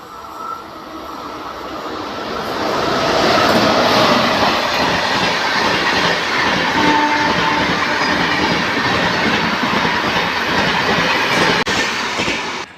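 A train rumbles past close by, loud and steady, with rhythmic clatter of wheels on track building up and then holding until the end.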